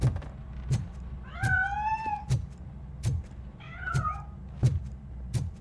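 A cat in RoboCop: Rogue City lets out two drawn-out meows, one after the other, while dull game thumps and steps tick steadily underneath.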